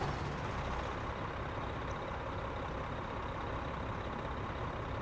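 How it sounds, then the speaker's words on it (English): A Kenworth T680 truck engine in American Truck Simulator rumbles steadily at a constant level, a dense low drone with no pauses, heard alone without talk. "Go ahead and fire this rig up. Let the air pressure and all that stuff build up."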